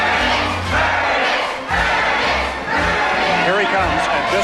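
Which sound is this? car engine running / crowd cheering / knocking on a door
crowd cheering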